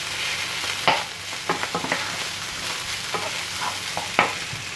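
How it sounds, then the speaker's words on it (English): Pork and garlic frying lightly in a pan give a steady sizzle, broken by scrapes and clatters of stirring and a few sharp utensil knocks, close and clear with no talk. "Fry it off lightly."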